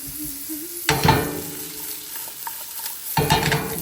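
Carrots for a vegan bolognese sizzle in a pan with two bursts of stirring and scraping, and a steady low frying hiss in between, close and clear with no talk.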